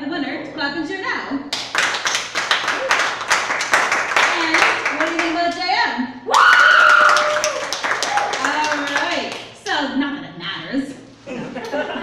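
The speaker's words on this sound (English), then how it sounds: "clap and cheer now" Audience at a live performance event clapping and cheering for a contestant, a dense wash of applause with shouts and a loud whoop partway through, steady and close throughout.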